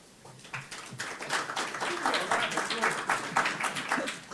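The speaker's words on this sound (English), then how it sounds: "I think the round of applause was your introduction rather than for me." Audience applause at a Reading Climate Fayre 2022 talk, a steady crowd of claps rising and holding after a speaker's introduction, fairly close and full.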